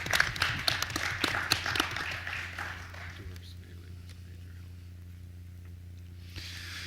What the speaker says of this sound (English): Give those volunteers a round of applause,